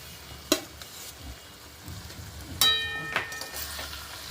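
Chow mein stir-fried with vegetables, chili sauce, soy sauce and ginger-garlic sauce, a low frying sizzle broken by sharp metallic clanks and scrapes of a utensil against the pan.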